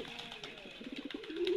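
Soft pigeon cooing close by among a small group of pigeons kept in a net enclosure, a few low murmuring calls rising at the end over faint background noise.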